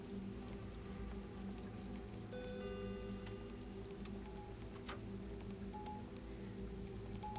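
Steady rain in the Shift at Midnight game, a constant soft hiss of falling drops that continues evenly throughout, with faint electronic beeps over it.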